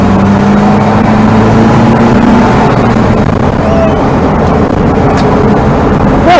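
An old Vauxhall Victor car drives and accelerates, its engine a loud steady drone from inside the cabin with a rising pitch as it speeds up, rumbling road noise beneath.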